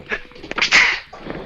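One sudden sneeze, short and sharp with a hissy burst at its peak, close and loud within a brief moment of room sound.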